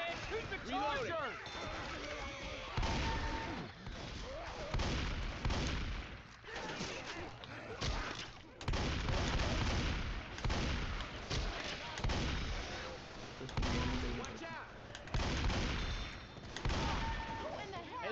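Repeated gunfire bursts in Left 4 Dead 2 as players shoot at a Charger, loud and dense, mixed with game effects while players shout over it.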